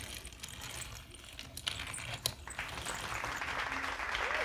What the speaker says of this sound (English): the crowd begins to go wild again